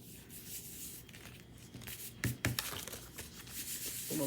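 Soft rubbing and scratching of a hand pressing paper flat while making a greeting card, quiet and close, with a couple of brief louder rustles midway.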